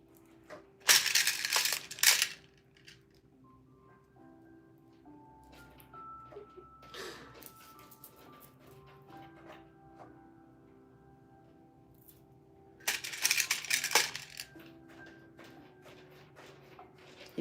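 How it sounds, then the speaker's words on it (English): A cat plays with a phone charger somewhere in the background, making two separate bursts of scraping, clattering rattles set well apart, with a few faint knocks between them and a quiet room tone underneath. "He's playing with the charger back there."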